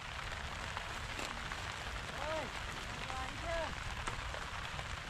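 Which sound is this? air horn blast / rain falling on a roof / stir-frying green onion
rain falling on a roof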